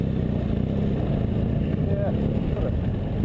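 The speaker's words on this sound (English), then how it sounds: "You see the bike comfortably sort of crawls over things, not too much effort for it" A BMW F800 GS motorcycle crawling slowly over rough off-road terrain: a steady, close, low engine rumble mixed with wind buffeting, continuous throughout with no clear revs or breaks.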